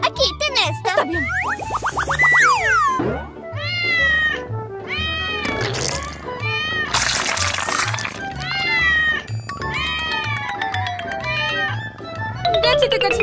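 Cartoon kittens meow repeatedly in high, sliding cries over playful background music, loud and close, with a voice talking between the meows.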